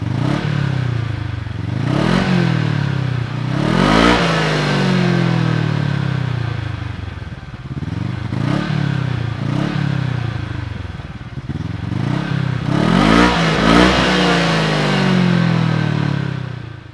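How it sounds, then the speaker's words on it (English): A Kawasaki KRX 1000 side-by-side engine revs repeatedly, its raspy exhaust note rising and falling in loud, close bursts with some clattering mechanical noise and no talking. "we found the exhaust note to be a little bit raspy, and at high RPMs, this exhaust note could become fatiguing to some riders"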